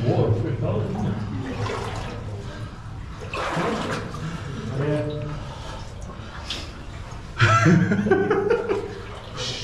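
Water sloshes and splashes around someone wading through the flooded Coniston Copper Mine underground, with heavier surges, one loud splash late on, and people talking and chuckling over it.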